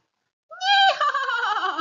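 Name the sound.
horse neighing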